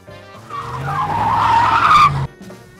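A Tesla's tires squeal loudly for about two seconds during an aggressive turn, the skid rising over the engine and road noise and then cutting off abruptly.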